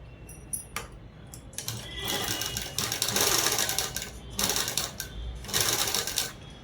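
A sewing machine stitches a blouse collar over canvas interfacing in several close bursts, its rapid needle clatter starting and stopping in quick runs.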